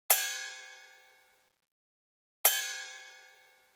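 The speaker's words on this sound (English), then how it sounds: "Kind of a wobbly metallic sound." A synthesized metallic, cymbal-like hit whose pitch wobbles under LFO modulation, struck twice about two and a half seconds apart, each with a bright sharp attack ringing down to silence, quiet and isolated.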